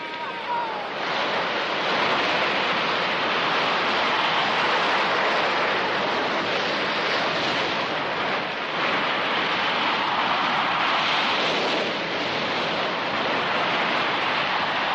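Ocean surf rolls steadily along a beach on the Japanese coast, a dense broadband wash with slow swells and some wind noise.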